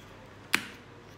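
Twisting open the sealed cap of an unopened mineral water bottle gives a single sharp, close crack of the seal breaking against a quiet background, with no talking.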